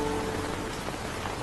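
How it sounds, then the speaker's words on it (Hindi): Steady rain falls in a broad, even hiss that stays loud and continuous throughout, with no voices. "मुझे पता है बारिश हो रही है"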